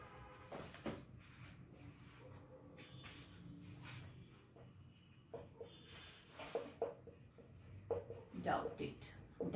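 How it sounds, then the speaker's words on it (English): Chalk scratches and taps in short strokes as words are written on a classroom board, heard faintly under a teacher's steady speech. "some of the difficult words I will be writing on the board"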